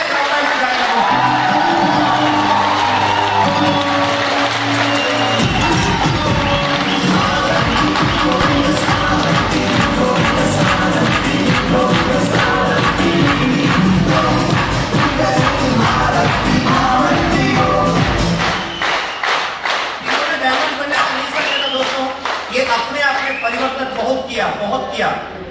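Audience at a company celebration for a newly promoted couple clapping and cheering loudly, with shouts and whoops rising over continuous dense applause, thinning out toward the end as the clapping becomes more scattered.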